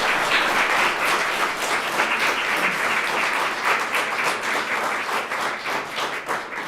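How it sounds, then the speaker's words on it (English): Steady, dense applause from a poetry recitation audience, many hands clapping together at an even level throughout with no pause. "How about another round of applause for our friends?"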